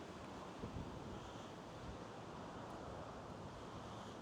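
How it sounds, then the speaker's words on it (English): Strong wind blows outdoors at a fishing spot, a steady broadband roar with a rumbling low end that buffets the microphone, constant and loud throughout with no talk. "the wind is strong"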